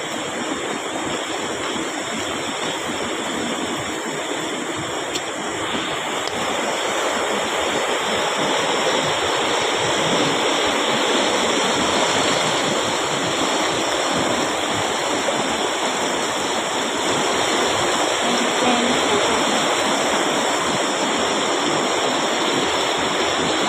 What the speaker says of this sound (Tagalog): That's Kunshan River.